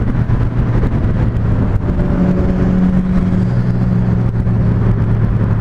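A Kawasaki Z750 motorcycle goes by with a steady, close engine drone and a faint rise in revs, the noise holding loud throughout with no voices.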